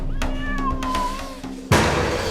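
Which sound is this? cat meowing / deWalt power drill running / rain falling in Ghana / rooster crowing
cat meowing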